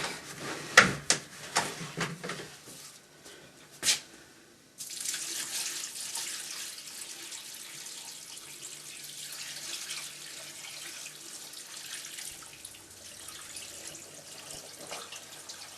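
Water is poured onto reclaimed clay in a bucket in a pottery studio: a few knocks and handling sounds first, then a steady close hiss of running water that goes on to the end, with no voices.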